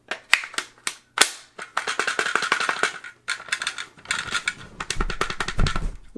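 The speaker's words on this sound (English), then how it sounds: "there's the mag pull" An original Russian Bakelite magazine being pulled from a PSAK-47 GF3 AK rifle: sharp, close metallic clacks and rattling clicks in quick irregular succession, with one heavier thump of handling noise near the end.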